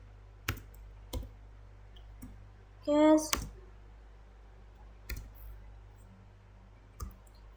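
Keys clack on a computer keyboard during a programming exercise, with sparse single presses spread out in a quiet room and a brief burst of quicker taps near the middle.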